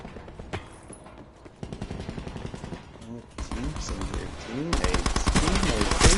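Rapid automatic gunfire from a video game shootout, with sustained bursts of loud shots growing denser and heavier toward the end, while voices talk underneath.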